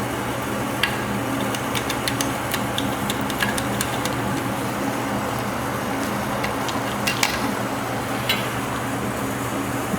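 A 2003 Polaris Sportsman 500 ATV idles after an engine swap. It gives a steady, low, unbroken hum with light ticking on top, close by, and no one speaks.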